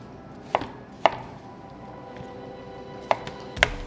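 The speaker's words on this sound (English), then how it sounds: "So do some big cuts of onion." Four sharp knife chops through an onion on a cutting board, spaced irregularly with pauses between, close and crisp against quiet kitchen background.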